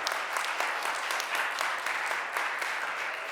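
An audience at a mayor's press conference on Philadelphia's food economy breaks into steady applause, a dense continuous patter of clapping heard at moderate distance without speech over it.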